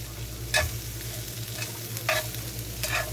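Seasoned green beans sauté in a pan with a soft, steady sizzle, while a few sharp scraping stirs of a utensil cut in at intervals, close and without speech.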